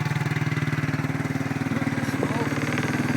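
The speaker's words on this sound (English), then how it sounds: "I'm going to let that idle." A 1992 Suzuki Quadrunner ATV engine idles close by with a fast, even putter, and a person speaks briefly over it.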